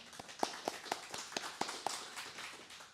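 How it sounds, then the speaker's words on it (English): An audience at a Melbourne CocoaHeads meetup claps for sponsors, a short, fairly faint burst of sparse, scattered hand claps over a few seconds. "give a round of applause to them"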